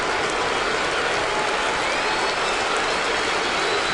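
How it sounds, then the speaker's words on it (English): A Red Sox home crowd at a baseball stadium erupts in a sustained roar of cheering and applause, loud and unbroken for several seconds. "One of the few times today that this crowd has jumped into this game."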